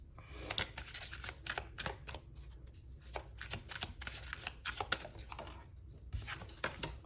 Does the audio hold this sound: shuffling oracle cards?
yes